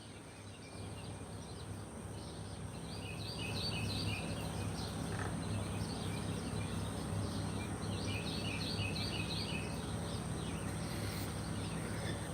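Outdoor birdsong rises and falls in clustered bursts of chirping over a steady drone of insects, growing slightly louder after the first few seconds, with nobody speaking.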